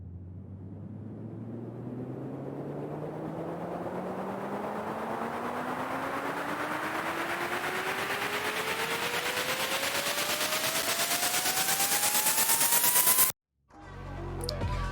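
A synthesized riser effect built in FL Studio climbs steadily in pitch and loudness over about thirteen seconds with a pulsing, buzzy texture, then cuts off abruptly before a brief quieter tail, with no talk.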